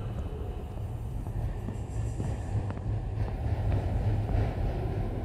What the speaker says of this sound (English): Here comes the train too.